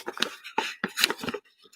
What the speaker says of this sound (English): A nice sound of paper there.